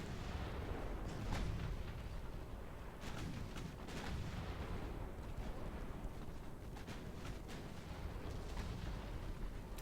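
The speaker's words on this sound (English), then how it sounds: "Not once those 9-inch guns start kicking in." Distant rumbling booms of 9-inch naval guns firing in the warship game Ultimate Admiral Dreadnoughts, several muffled blasts spread over a continuous low roar of battle, with no talk.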